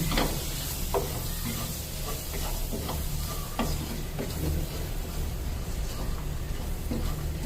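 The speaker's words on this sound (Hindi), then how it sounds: "अब ये जो सब्जियां मैंने ली थी ना ये भी डाल देंगे। अब सब्जियों को हमें पकाना नहीं है, बस अब इसको मिक्स करके" Vegetables are stirred into cooked chicken shawarma filling in a pan, a steady sizzle and fry hiss running throughout with repeated scraping stirs, close and moderately loud.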